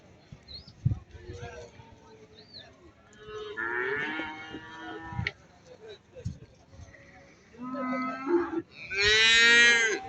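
Calves moo and bleat several times at a cattle market in Barda, lowing calls near and far amid crowd chatter, with the loudest moo close by at the end.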